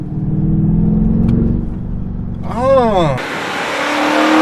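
A 2020 BMW X6 M50i's turbocharged engine rumbles at idle, then sharply revs up and settles back down in a quick rise and fall, close and loud, with a brief spoken exclamation.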